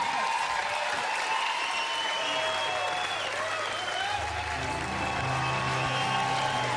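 Sustained concert audience applause with cheering and whistles at a live rock show, dense crowd noise throughout at steady loudness, with a low hum rising in the background toward the end.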